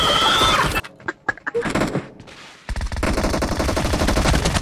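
Rapid automatic gunfire bursts in a mobile shooter team deathmatch, loud dense rattling volleys at the start and end with scattered single shots and impacts in a quieter middle stretch.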